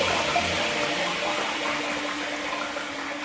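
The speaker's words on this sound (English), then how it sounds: "I'll put some water on my face" Running water splashes steadily, close at hand, as it is put on the face during a shave at a sink.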